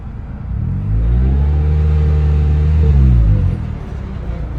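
A turbocharged Toyota Corolla with a blown transmission drones loudly at close range, its steady engine tone holding for about three seconds before dropping away to a low idle rumble.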